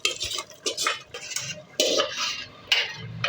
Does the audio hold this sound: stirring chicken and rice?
yes